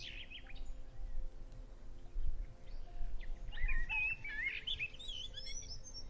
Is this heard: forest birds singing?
yes